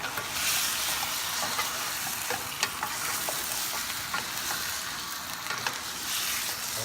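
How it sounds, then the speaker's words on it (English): Beef tripe being stirred in a cooking pot for pork kare-kare, a steady sizzling hiss with soft scraping stirs and occasional light clinks, close and continuous with no talking. "I'll put our beef tripe. Let's give it a stir."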